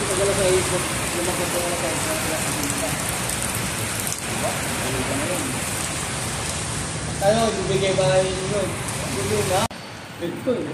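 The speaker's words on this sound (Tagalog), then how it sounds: "Malakas pa ang ulan." Heavy rain pours steadily in Cubao, a dense hiss drumming on a surface, with voices talking underneath and the downpour cutting lower near the end.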